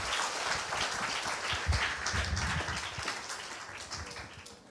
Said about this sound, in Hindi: एक जोरदार ताली बनाते हैं,